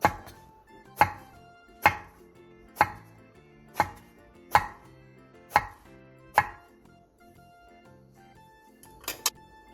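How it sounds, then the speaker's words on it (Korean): Knife chopping halved eggplant into large bite-sized chunks on a cutting board, about eight evenly spaced sharp thuds, close and clear, followed by a quick double tap at the end. "가지 두 개를 길게 반으로 가른 뒤 한 입 크기로 큼직하게 잘라주세요."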